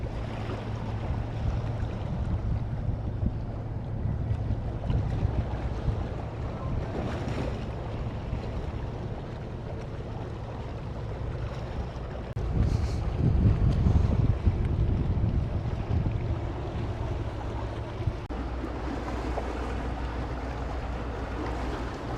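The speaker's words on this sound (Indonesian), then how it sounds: "ada kapal" A boat moves on open water near Incheon with steady wind buffeting the microphone, waves and engine rumble forming a continuous near bed that swells louder briefly midway, with no talking.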